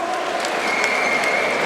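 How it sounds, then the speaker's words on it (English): A crowd at a boxing event applauds the fighters, a steady dense patter of clapping mixed with crowd noise and a faint sustained tone in the background. "A round of applause for both fighters, both corners"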